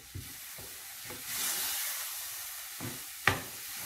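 Salt, turmeric, kitchen king masala and red chilli powder mixed into a gram-flour filling in a pan, heard as a soft, faint sizzle with a few scraping stirs and a sharp utensil knock near the end.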